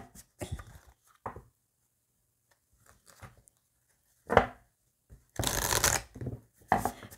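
A deck of tarot cards is shuffled and cut in a few separate bursts of riffling and flapping close up, with quiet pauses between them and no talking.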